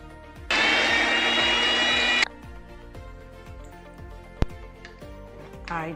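A kitchen blender grinds ingredients into a paste in one loud, steady whir of about two seconds, then stops abruptly, leaving light clatter and faint background noise.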